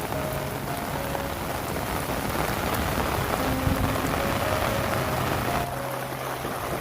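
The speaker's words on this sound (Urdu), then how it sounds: "مزید بارش زور پڑے گی" Heavy rain pours steadily during a thunderstorm in Dadyal, Azad Kashmir, a dense continuous hiss of drops drumming on surfaces, close and loud throughout with no voices.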